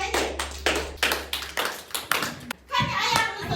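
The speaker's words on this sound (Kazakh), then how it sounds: "Кәне бәріміз шапалақтайықшы." Young children at a kindergarten New Year party clap their hands in a run of loud, sharp claps, roughly two per second, while an adult talks to them and children's voices come through.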